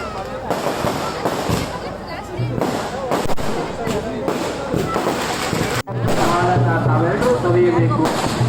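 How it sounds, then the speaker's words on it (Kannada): Firecrackers set off for the crowd at a village festival in Magoda, Yellapur, popping in rapid bursts and rattling crackles beneath someone talking, with one sharp pause midway. "ಜನರಿಗೆ ಮನೋರಂಜನೆ ಸಲುವಾಗಿ ಪಟಾಕಿ ಹೊಡೆಯುವುದು"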